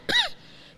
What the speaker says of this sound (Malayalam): ചുമ തന്നെ ചുമ.